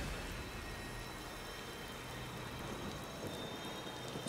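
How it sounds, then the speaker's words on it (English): Rain falling in the Disney Dreamlight Valley video game, a soft steady hiss of rainfall with faint patter, quiet and uniform throughout with a small bump at the end. "It's raining right now."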